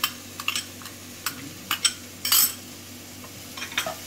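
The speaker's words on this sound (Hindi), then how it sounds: "अब हम इसमें ये अपना पनीर मिला देंगे" Paneer is mixed into kulcha stuffing in a pan, the spoon clinking and scraping against the metal in short irregular bursts over a faint sizzle and steady low hum, close by and without speech.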